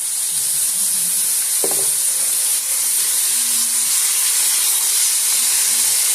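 Meat simmering in a tomato basil sauce in a pan for stuffed shells: a loud, continuous close sizzle and hiss with one brief knock near the start.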